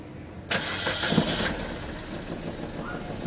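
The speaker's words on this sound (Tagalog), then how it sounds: "Pa-start ko na itong makina mga boss." Suzuki Ertiga engine cranking and catching under the hood during overheating repairs, a sudden loud burst that settles into a steady idle with a faint rattle, no talking.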